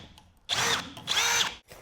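A power drill with a long drill bit boring through material while wiring a converted Navy barge, two loud whirring bursts close by, each about half a second, with no talk.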